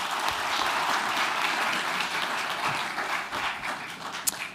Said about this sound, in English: Can we therefore thank the mayors for their interventions and setting the scene for this particular forum.